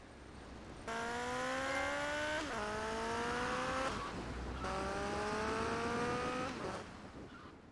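A motorcycle engine holds a steady, buzzing drone in GTA Vice City, rising gradually in pitch, dipping briefly and climbing again across two long sustained runs separated by short pauses.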